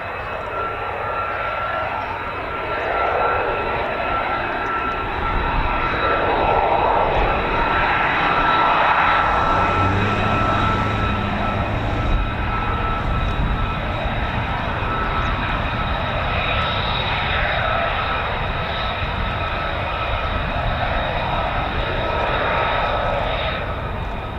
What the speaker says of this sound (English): Did I just hear a startup F-15?